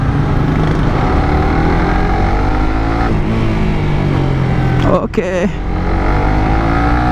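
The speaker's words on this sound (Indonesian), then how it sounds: "Gue pengen nyoba responsif mesinnya kayak gimana. Oke, dari gigi dua lumayan sih responsifnya." A 2017 Suzuki GSX-R 150 motorcycle engine revving while ridden, a loud close engine drone with rising and falling pitch and a sharp shift change near the end; a rider speaks briefly over it.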